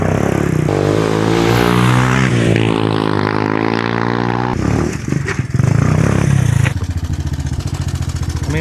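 A small three-wheeler fitted with a cheap aftermarket Temu exhaust, riding along with a loud, steady engine drone that rises in pitch as it accelerates, dips briefly, then settles into a rough, rapid putter close by.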